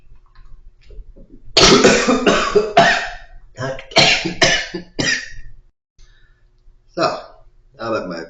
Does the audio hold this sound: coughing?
yes